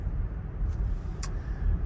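A Volvo EX90 twin motor electric SUV picking up speed, a low steady rumble of road and tire noise heard from inside the cabin, with a couple of brief faint clicks.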